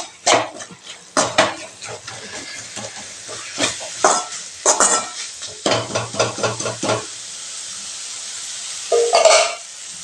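Curry masala, sambar powder and turmeric stirred in a pan for idli kurma: a metal spoon repeatedly scrapes and clinks against the pan in quick bursts, with a faint sizzle in the pauses.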